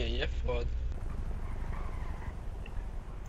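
A helicopter in the video game GTA 5 roleplay gives a steady, throbbing rotor rumble that fills the low end, entering after a short stretch of voice and carrying on steadily to the end.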